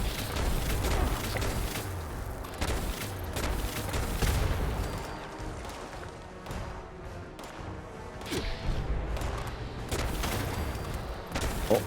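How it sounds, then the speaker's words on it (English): Gunfire in the video game Fallout 76, a dense run of loud booming shots and crashing impacts with heavy low rumble, packed together over several seconds with no talking. "Oh, no, I didn't mean to shoot him"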